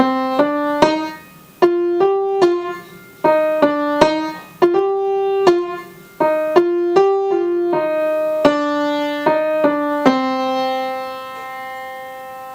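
Solo piano plays a flowing melody of clear single notes, with every third note struck noticeably harder for a lilting, accented pattern.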